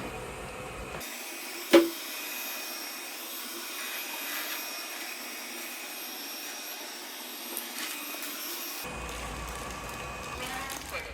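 A Shinebot W455 robot vacuum runs a spot clean, a steady mid-pitched whirring hum with a sharp click near the start, continuing evenly before stopping, as a voice talks over it.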